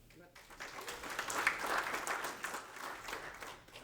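An audience at an executive breakfast event applauds, the clapping swelling to a full, dense peak midway and then tapering off gradually.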